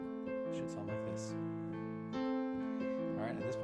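Quiet piano phrase, practiced as a two-against-three rhythm, with a few distinct chords and notes ringing and overlapping at a soft, close level.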